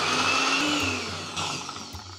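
A mixer grinder blends a quarter cup of garlic into paste in its jar, a steady loud motor whir with a grinding hum that continues without pause.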